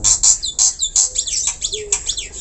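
A starling, jalak suren or white jalak, chirps close and loud in a rapid series of bright, sharp tweets and warbling whistles, with no talk over it.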